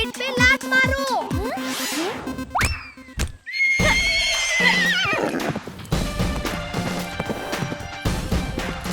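Horse in a 3D animated comedy series whinnies loudly, then its hooves clip-clop amid crashes and busy cartoon effects, with a rising whistle-like sweep and a sustained musical bed running through.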